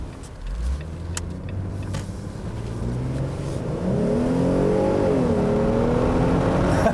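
Wind buffets through the open cabin of a 2018 Jeep Wrangler 3.6L driving with its roof panels removed, a loud steady rush under a rising engine drone that climbs as the vehicle speeds up.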